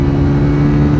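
A Honda CG 125 motorcycle engine drones steadily at speed on a road, a loud, constant mid-pitched hum with no break.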